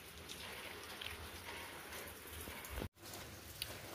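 Steady rain falls continuously in a village during the rainy season, a dense close hiss of drops on surfaces with no talking.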